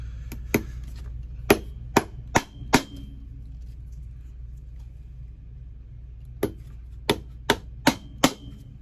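Threaded nails are hammered into an Allen Edmonds shoe sole, a series of sharp, close hammer taps in two clusters with a quiet pause between.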